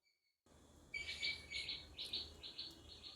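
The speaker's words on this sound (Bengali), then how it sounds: "শুনতে পাচ্ছ নিশ্চয়ই কোকিলের ডাক" Repeated high, clear calls of a koel (Asian cuckoo) ring out in a steady series over a constant outdoor hiss, carrying from some distance from a nearby tree, with no voices present.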